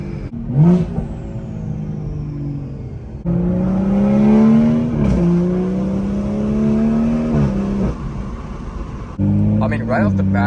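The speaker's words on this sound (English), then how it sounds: "And it has so much turbo noise." BMW M240i with a B58 engine, catless downpipe and full catback exhaust, running on E85 blend, driving with turbo whoosh and engine drone rising and falling as it accelerates and shifts, close and loud inside the car.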